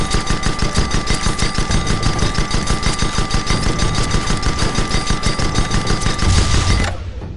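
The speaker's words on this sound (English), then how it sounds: "Head upstairs and get on the Gatling gun." A Gatling gun in the airship game Guns of Icarus fires at a target dummy, a loud continuous rattling stream of rapid shots that stops abruptly near the end.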